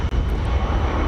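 An eight-year-old Boeing 787 Dreamliner airliner at DFW Airport gives a loud, close, steady jet engine roar in one brief continuous burst.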